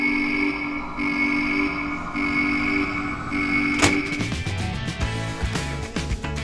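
A repaired Oxford Rail model tank engine locomotive on test, a steady electric motor hum with repeating whine pulses, then clicking and rattling of the small model running along the track close by.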